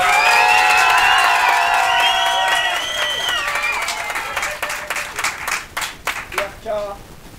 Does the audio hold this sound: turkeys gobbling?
no